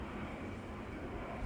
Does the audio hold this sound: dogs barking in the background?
no